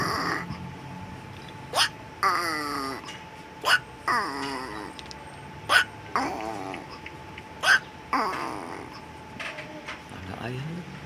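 A voice imitates a tokay gecko call, giving a series of short, sharp, strained croaks in a repeated two-part rhythm, close and clear over a quiet background.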